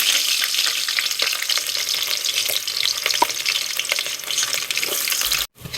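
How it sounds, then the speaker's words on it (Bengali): Onions fry in hot oil in a pot for a beef curry, a loud, close, continuous sizzle with occasional scraping and stirring, cut off abruptly near the end. "পেঁয়াজটা লাল লাল করে ভাজা হয়ে গেছে"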